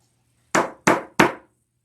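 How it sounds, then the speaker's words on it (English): Three sharp hammer blows driving a nail into stacked 1x2 scrap wood, evenly spaced about a third of a second apart, close and loud with a quiet pause before them. "I'm just going to hammer it down"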